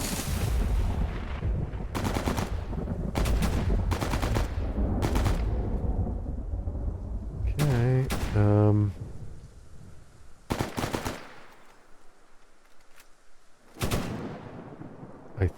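Dense in-game gunfire and booming blasts from a firefight in the S.T.A.L.K.E.R. shooter, loud bursts of shots over a rumbling background, thinning into scattered distant cracks toward the end.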